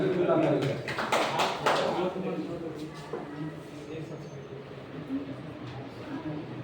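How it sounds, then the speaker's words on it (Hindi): Teachers at an in-house gender sensitivity training session break into a short burst of clapping that peaks early, then thins out beneath people talking. "बहुत बढ़िया सर के लिए जोरदार ताली"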